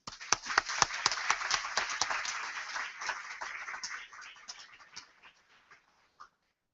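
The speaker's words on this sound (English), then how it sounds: "So please join me in applauding Eric Maskin." An audience at a research seminar on elections and strategic voting applauds for a few seconds, dense clapping with sharp individual claps that thins out and fades near the end.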